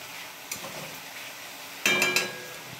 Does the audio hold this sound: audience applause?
no